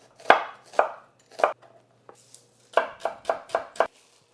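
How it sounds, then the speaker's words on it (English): A knife slices peeled onions lengthwise on a cutting board, making crisp, separate chops: three spaced cuts, a pause with light taps, then a quick run of five even strokes, close and clear. "We're going to cut these lengthwise."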